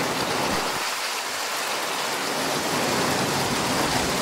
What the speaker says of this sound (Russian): Да, дождь усиливается.